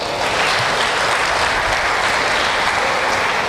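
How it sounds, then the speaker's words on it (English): A big round of applause at a large event, dense continuous clapping from a crowd, loud and steady throughout, with no talk over it. "Give him a big round of applause"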